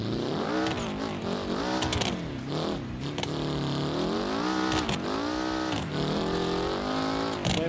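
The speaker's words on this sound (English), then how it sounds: "It's hard to hear me over the buggy engine." An off-road buggy engine in the BeamNG driving game revs hard and continuously, with rising and falling pitch sweeps and sharp gear changes, loud and close throughout.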